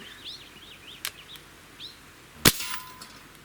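A Comrade AK BB air rifle fires at a target about 10 yards away, giving two sharp cracks with a metallic clang, while birds chirp faintly in the background.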